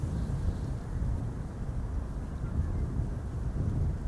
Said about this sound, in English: We still have wind blowing from the southwest.